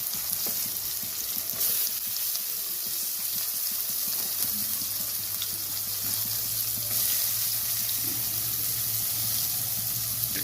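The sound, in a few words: onion garlic paste frying with prawns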